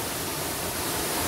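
Hidden waterfall in the Konkan countryside pouring down from above, a steady, dense, loud roar of falling water heard close up with no voices.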